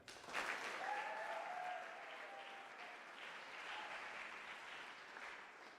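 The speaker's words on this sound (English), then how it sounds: "Round of applause for them." An audience at a winter athletic awards ceremony applauds the team, a steady, fairly distant patter of many hands clapping that holds evenly throughout.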